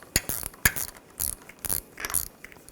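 A nut is worked off the front strut mount of a 2007-2013 BMW X5, giving a series of sharp metallic clicks and ratcheting scrapes in close, uneven bursts, with no talking.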